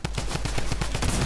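A drum gun fires in a video game in a loud, continuous automatic burst, with rapid evenly spaced shots about eight per second running through the whole stretch.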